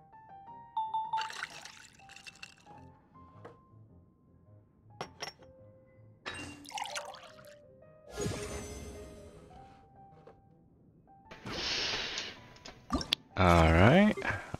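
Liquids poured into a drink in a video game mixing juice and water, heard as a few short pouring and trickling bursts with glassy clinks and drips, separated by quiet gaps and small game sounds.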